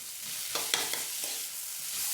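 Chopped tomatoes frying in a pan with salt for an egg kulambu, a soft close sizzle with a few spoon-stirring scrapes and clinks over about two seconds.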